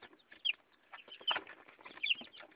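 Chickens clucking and squawking in short bursts at a moderate distance, with a few louder sharp calls standing out; in Muğla, Turkey.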